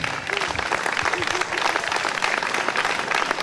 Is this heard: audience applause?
yes